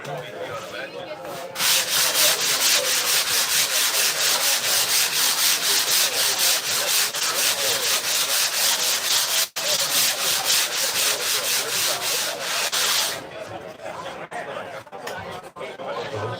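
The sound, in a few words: sanding a surfboard blank with 40 grit sandpaper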